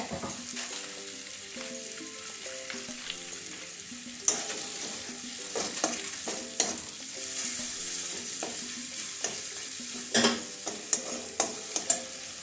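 Spices with Kashmiri red chilli powder stir-fried in a pan, a continuous sizzle with scraping stirs and sharp clinks of a spoon against the pan, close, with soft background music underneath.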